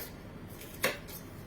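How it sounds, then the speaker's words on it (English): A knife makes one short, crisp chop through red peppers on a cutting board, cutting them into chunks; the faint kitchen room tone is otherwise quiet. "And then what to do is cut down the peppers and across."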